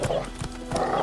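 Geralt's horse Roach gallops in The Witcher 3's White Orchard, a brief burst of rapid, close hoofbeats with a snort-like breath, all within about a second.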